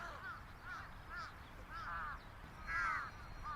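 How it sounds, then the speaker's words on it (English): Crows caw in the visual novel game Chaos;Head Noah, with about five or six hoarse calls spaced at an uneven rhythm, fairly faint over a low background hum. "I faintly hear the sound of birds chirping atop the phone lines"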